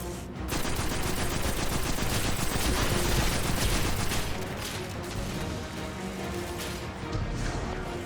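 Sustained rapid gunfire from a weapon in the shooter game Destiny 2, a dense loud barrage of overlapping shots running almost the whole time with no break.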